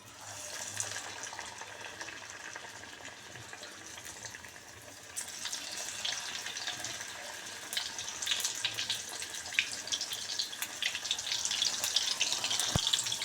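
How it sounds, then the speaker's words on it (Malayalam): Batter-dipped eggplant slices fry in hot oil, giving a soft, continuous sizzle that starts quietly and grows louder and denser toward the end, with no talk over it. "അതിലേക്ക് ഞാനിങ്ങനെ ഓരോ വഴുതിരിങ്ങ ഇങ്ങനെ മുക്കിയിട്ട് ഇടുകയാണ് കേട്ടോ"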